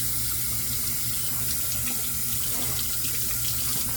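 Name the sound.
running tap water rinsing out shaving gear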